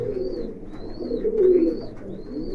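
Kaldom pigeons at a pigeon farm, soft repeated cooing close by, several rolling coos in a row over a low murmur.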